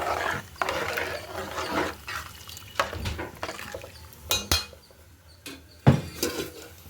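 Rice is stirred in a cooking pot, with irregular metallic scrapes and knocks of a spoon against the pot, some sharp and loud, separated by quieter gaps.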